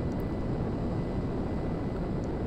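Airplane engine in GTA 5 on the runway before takeoff, a steady loud droning roar with no pauses and no talk.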